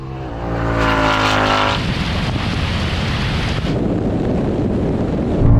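A BMW 3.0 CSL and a Ford Mustang V8 accelerate side by side in a drag race, a loud, rising engine roar that climbs and then dips at a gear shift, heavily buffeted by wind noise with no talk.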